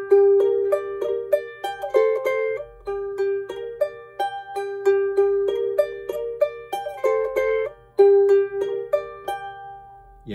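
Charango melody played in first position, a bright, clear line of plucked notes in a lilting rhythm, close and solo with no talking.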